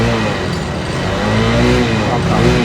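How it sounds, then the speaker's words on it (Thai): A Suzuki GD110 motorcycle engine running and revving steadily up close, its rumble rising and falling while someone talks over it. "ลองสตาร์ทเครื่องดู ครับเสียงก็เหมือนรถใหม่แหละครับนิ่มๆเอาเบิ้ลหน่อยเบิ้ลหน่อยเบิ้ลเบิ้ลค้างไว้"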